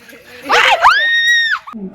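A loud, high-pitched scream rises and holds for about a second, preceded by a burst of noisy shrieking, then cuts off abruptly.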